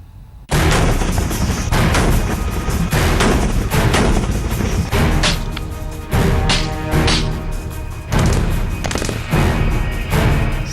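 Cross-border firing on the India-Pakistan frontier, loud, sustained bursts of heavy gunfire and booming blasts, repeated in waves with short gaps between volleys.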